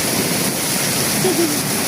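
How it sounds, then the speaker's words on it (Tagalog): Light drizzling rain giving a steady, soft hiss throughout, with a faint voice briefly heard near the end. "Pero nag-aambon-ambon po siya."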